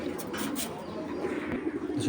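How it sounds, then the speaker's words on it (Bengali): A pigeon coos nearby while a few quick bursts of wing flutter rustle at the start, with faint voices in the background. "কবুতরটা প্রচুর ছটফট করতেছে।"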